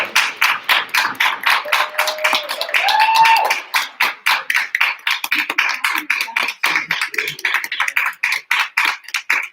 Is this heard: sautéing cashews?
no